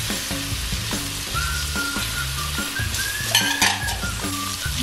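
Shallots fry and get stirred in a pan for linguine shrimp pasta, giving a steady loud sizzle with rhythmic scraping strokes of a utensil against the pan and brief clinks near the end.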